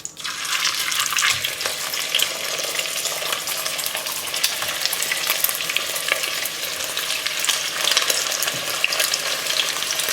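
Turkey pieces sizzle steadily in hot oil in a cast-iron pot, a loud, close, continuous frying crackle with occasional stirring scrapes and no voice.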